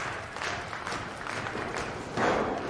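Wrestling crowd at an independent show cheering steadily for a wrestler as he comes out, a continuous broad roar that swells louder near the end.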